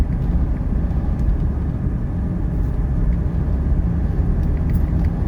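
A 1985 Mercedes 300TD diesel station wagon cruises along a highway, heard from inside as a steady, loud, low road and engine rumble that holds even throughout.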